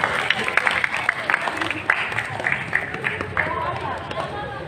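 An audience at an Islamic lecture claps in a dense, sustained burst of applause, with crowd murmur and voices mixed in throughout.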